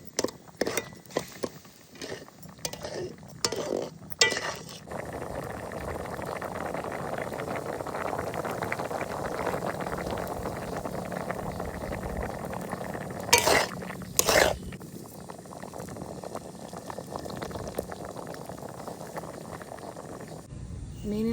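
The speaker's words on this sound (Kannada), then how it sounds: "ಚೆನ್ನಾಗಿ ಬೇಯ್ತಾ ಇದೆ ಫಿಶ್ ಮೊಟ್ಟೆ" Fish eggs simmering in a pan for a village-style fish egg burji, a steady bubbling boil running throughout, opened by a few sharp clinks of utensils and broken by two brief scraping bursts midway.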